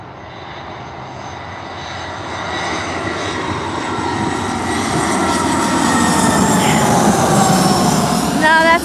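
A Delta airliner passes low and close at LAX airport, its jet engine roar swelling steadily from a distant whine to a loud, near rumble with a rising high-pitched tone.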